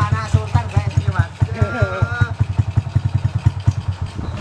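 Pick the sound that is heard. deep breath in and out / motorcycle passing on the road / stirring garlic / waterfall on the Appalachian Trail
motorcycle passing on the road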